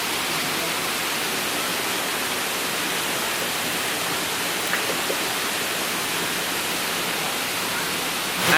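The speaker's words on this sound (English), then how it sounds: "there's just a waterfall here, the Doi Pui waterfall" Doi Pui waterfall near Chiang Mai, a steady broadband rush of falling water heard from close by, constant and even with no breaks and no voices.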